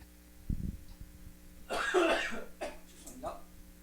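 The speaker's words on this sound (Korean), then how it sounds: "그건 사례로 기침하는 겁니다." A person coughs during a church Sunday service, a sharp short burst followed by a longer rough cough and a couple of smaller throat-clearing coughs, fairly close in a quiet room.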